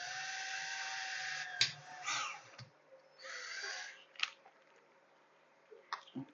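A small drill whirs in short bursts while drilling out aquarium filter parts, its high thin whine stopping and starting and mixed with clicks and handling noise, close and fairly quiet.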